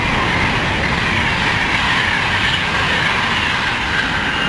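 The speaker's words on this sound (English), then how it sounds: "The water train going to Derft," A water train bound for Derft near Daventry rolls steadily past at close range, its loud continuous rumble of wheels and wagons filling the whole stretch with no gaps.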